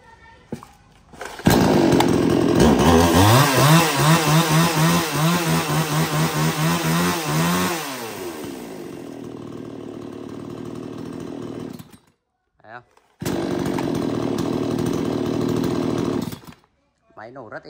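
A used Japanese-market chainsaw engine starts loudly and runs close by, revving hard and then settling to a steady idle, cutting out briefly around twelve seconds before running again.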